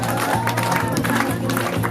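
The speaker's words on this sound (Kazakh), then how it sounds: "Ол шапалақтаймыз, бәріміз апайымызға құрмет көрсетеміз." Audience applause for a teacher at a school ceremony marking the last bell, a steady wash of clapping throughout under a continuous low hum.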